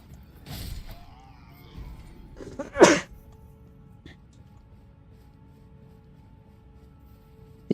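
A single sharp sneeze near the middle, loud and abrupt against a quiet background, with faint talking before it.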